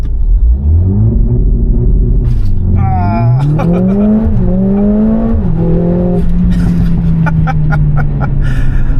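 A Mercedes-AMG A45 S revs up and accelerates hard under launch control, pitch climbing through gear shifts, loud and close, with a steady roar settling afterward.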